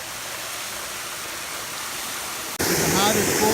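Water gushes hard from a fully opened fire hydrant during hydrant testing, a loud steady broadband roar that jumps in strength near the end as the flow surges.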